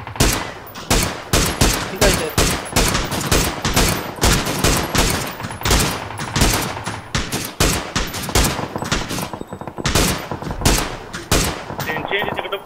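Rapid gunfire in PUBG on PC: loud, near bursts of automatic shots repeat almost nonstop, with players talking underneath.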